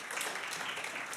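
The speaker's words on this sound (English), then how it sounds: "Let's give Perry a nice round of applause" A live audience applauds for Perry at a comedy and variety show, steady dense clapping that holds evenly for the whole stretch with no voices over it.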